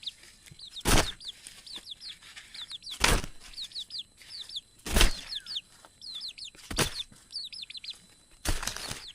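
Pet chicken perched on a shoulder while someone works: soft, faint clucking murmurs repeating through the scene, broken by about five sharp bursts of flapping or rustling at regular intervals.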